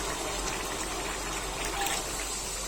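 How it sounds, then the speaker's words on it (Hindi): Water is poured into a cooking pot, a brief steady trickling splash at fairly low level. "और इसमें 2 गिलास पानी डाल देते हैं।"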